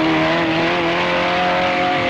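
A 1970s open special race car in an autocross on grass, a loud sustained engine drone holding a steady pitch throughout, close and dominant with no speech.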